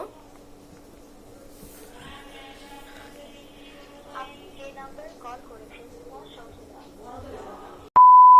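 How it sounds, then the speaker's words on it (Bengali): A phone call tone plays as a steady, low electronic drone with faint background noises, then ends in a sudden, loud, sharp beep. "তো ঋতু হোসেনকে আমি এখন ফোন দিব"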